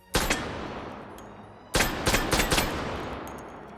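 Automag handgun firing in the VR shooter Hot Dogs, Horseshoes & Hand Grenades: one loud sharp shot near the start, then after a pause a rapid cluster of four or five shots with ringing tails, close and without talk.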